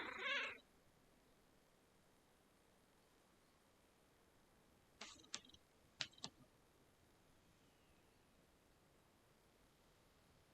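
A pet cat meows once briefly at the start, then gives several faint, short clicks and rustles as it moves around, with quiet room noise in between and no talking.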